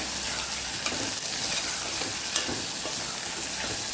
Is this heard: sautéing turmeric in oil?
yes